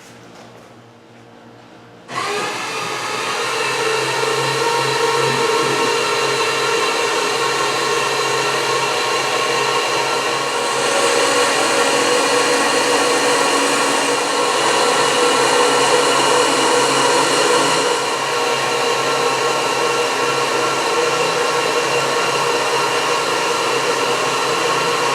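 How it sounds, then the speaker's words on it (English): Electric screw motors drive up and down on a Beatnik Bandit clone car body, starting abruptly into a loud, steady mechanical whine that holds for over twenty seconds with slight shifts in pitch and level. "we'll give this thing a dry run with both of the screw motors going up and down"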